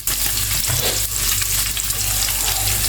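Guanciale fat sizzling steadily in a pan over medium-low heat, a close, continuous crackling fry with small pops and faint stirring, no voices.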